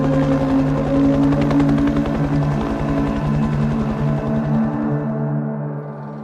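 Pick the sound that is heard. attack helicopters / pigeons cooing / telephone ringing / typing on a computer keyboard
attack helicopters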